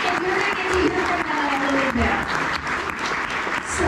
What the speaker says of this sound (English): So keep those hands clapping